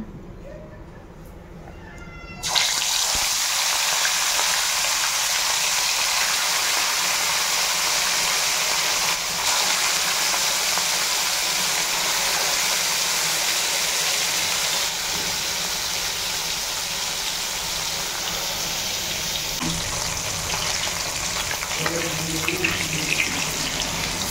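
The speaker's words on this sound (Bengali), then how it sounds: "এদিকে তো আমার মাছ ভাজা হচ্ছে জোর কদমে।" Fish sizzling in hot oil in a wok (kadai) for a Bengali potato fish curry: a steady, loud broadband frying hiss that starts abruptly and holds continuously to the end, with faint background movement.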